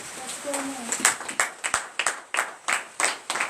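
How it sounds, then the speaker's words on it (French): Scattered claps ring out from a congregation during a televised morning prayer service in Benin, a series of separate sharp hand claps in loose rhythm, moderately near, with a voice heard briefly at the start. "donnez l'acclamation à Jésus"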